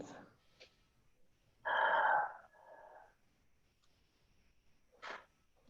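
Slow breaths during a gentle yoga flow, a few soft exhales and one longer audible breath out, heard close and quiet with long pauses of near silence between them.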